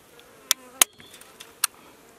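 Honey bees being installed into a hive in Alaska hum faintly and steadily, broken by three sharp, loud clicks from handling the hive equipment.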